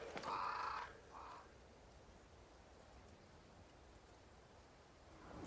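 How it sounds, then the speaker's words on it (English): Crows caw in the video game Banishers: Ghosts of New Eden, a short loud burst of calls in the opening second followed by one fainter caw, then a quiet outdoor ambience. "Crows."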